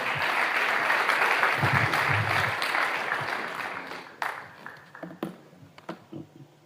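A church congregation bursts into loud, dense applause and cheering that holds for about four seconds, then thins into a few scattered, separate claps.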